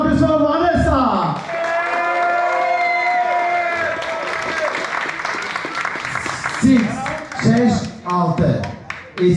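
Clapping and cheering rise from the audience at a hotel club beauty pageant in Alanya, steady applause with music underneath and a few louder bursts toward the end.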